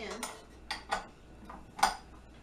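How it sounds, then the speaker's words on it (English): A paddle attachment being fitted onto a stand mixer makes a few quick metallic clinks and clatters, scattered irregularly over about two seconds, close and moderately loud. "Fit the paddle attachment"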